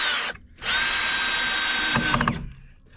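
A power drill drives screws into a log cabin window frame: a loud steady whir for about two seconds, a short pause, then another run that ends with a ratcheting clatter and winds down.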